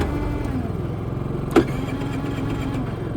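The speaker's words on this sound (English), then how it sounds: "So I'm going to turn this on and start it. These are really nice generators." A Predator generator engine running steadily with a close, even mechanical drone and a brief louder pop mid-way, continuous throughout with no talking.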